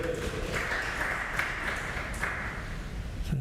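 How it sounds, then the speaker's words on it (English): Spectators applaud after a frame is secured in a six-red men's snooker final at a world championship in Qatar, a steady ripple of moderate clapping filling the hall, with a faint ping near the end. "There's a round of applause"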